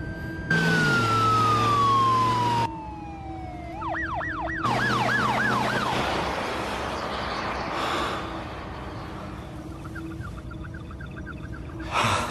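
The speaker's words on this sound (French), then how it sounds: "C'est peut-être pas pour nous, la sirène." An emergency vehicle siren wails close by on a road, heard from inside a car, sweeping loudly up and down through several wailing and yelping patterns before fading to a quieter, more distant cycle.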